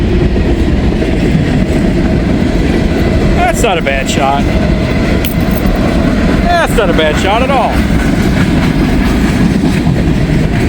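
A freight train rolls past close by in a loud, continuous rumble with steady wheel clatter and a few sharp metallic squeals, while someone talks over it.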